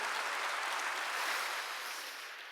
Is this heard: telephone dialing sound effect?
no